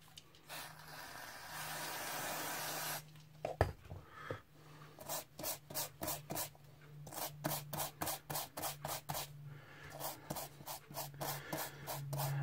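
Brake cleaner sprayed onto a metal part of an old 80s Cue Ball handheld game gives a sustained hissing burst lasting a few seconds, followed by a quick rhythmic series of scrubbing rubs.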